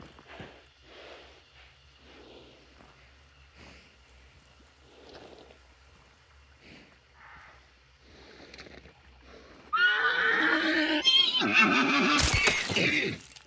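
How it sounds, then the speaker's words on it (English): Quiet splashing and movement in water give way to a loud, shrill horse neigh in Hunt: Showdown that whinnies on for several seconds, close and prominent. "This horsey is neighing."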